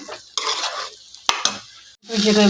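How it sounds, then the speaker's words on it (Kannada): Masala for mango rice fries in a pan, sizzling under quick, scraping stirs of a spoon, with a sharp clink partway through and a louder, fuller sizzle at the end. "ಸ್ವಲ್ಪ ಫ್ರೈ ಆಗಬೇಕು"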